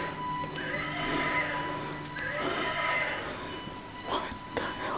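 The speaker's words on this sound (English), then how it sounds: "Is that your horse?" A horse neighs in a long, wavering whinny, then gives a second drawn-out neigh and a shorter cry near the end. The calls are fairly close and clear, with faint background noise and soft human voices.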